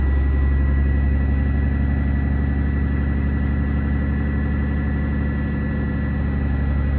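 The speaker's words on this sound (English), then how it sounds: "I'm going to start the bus back up. I'm going to help build pressure by accelerating a little bit." A school bus diesel engine runs steadily at close range, a loud low rumble with a constant whine on top, revving slightly to build air brake pressure, with no talk over it.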